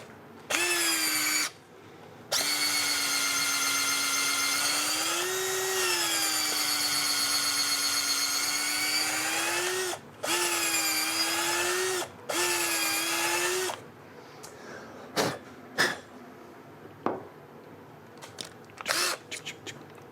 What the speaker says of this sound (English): We're going to ream from the top side since we're going from the butt.